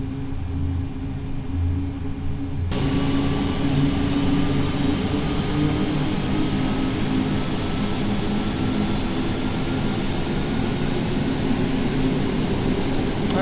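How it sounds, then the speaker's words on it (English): A Boeing 737 Max 9 jet engine spools up during startup in the Aerofly FS Mobile flight game, a steady roar and whine that jumps louder a few seconds in and then holds constant. "we are turning engine number 1 on"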